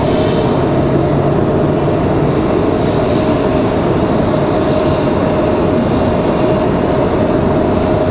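An airliner takes off from runway 23 left at Raleigh-Durham International, a loud, sustained, broadband jet roar with a steady tonal whine, heard from nearby and unbroken throughout, with no talk.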